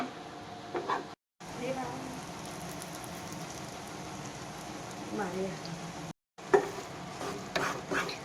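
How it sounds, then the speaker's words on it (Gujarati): Besan roasting in ghee in a pan on a low flame, stirred constantly: a soft, continuous sizzle with scraping strokes of the spoon, fairly faint, with two brief gaps in the sound. "તો આપણે સતત હલાવતા રહીશું ધીમા ગેસ ઉપર."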